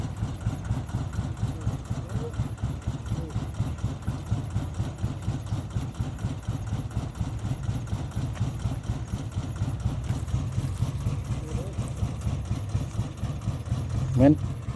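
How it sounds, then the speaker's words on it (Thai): A steady, rapid chugging two-wheel farm tractor engine idles close by throughout, with a faint brief squeak near the end. "รถไถเอ้ยรถอีแตนลาก เหมือนเดิมครับ"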